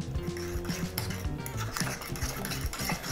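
A spoon clatters quickly and repeatedly against the pan while spaghetti sauce ingredients of Parmesan, cooking cream, egg and pepper are whisked together, a close, busy rhythmic rattling.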